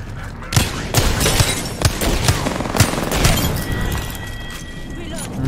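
Spitfire gun in a video game fires a string of loud, rapid shots in a short, rhythmic burst, with a mechanical rattle and a fading tail at the end.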